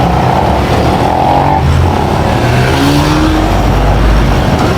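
Busy town traffic in Kandy, Sri Lanka, with many vehicles, cars and motorbikes moving and revving close by in a steady, loud, continuous roar along a market street, with no talk.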